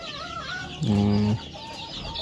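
Free-range village chickens cluck close by, a few short calls with one louder drawn-out cluck standing out over a steady farmyard background.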